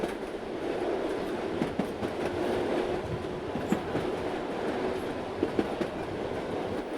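An air-conditioned electric suburban train on the Chennai Beach to Chengalpattu line runs steadily on its rails with a constant low rumble, occasional clacks from the wheels, and a faint squeal mixed in.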